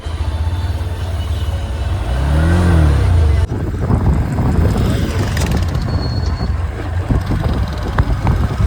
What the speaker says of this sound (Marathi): दादा गाडी काढतोय